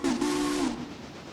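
Passenger train passing in the video game Railroader, with a single sustained whistle blast for about half a second that then fades into rolling rail noise.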